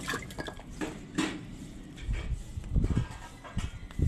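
Water dripping and splashing while something is rinsed, with soft scattered drips, light clinks of dishes and a low wet rumble near the end, close and fairly quiet with no speech.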